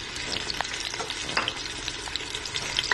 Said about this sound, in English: Cook the onions for about 1 minute or 2, then add the beans.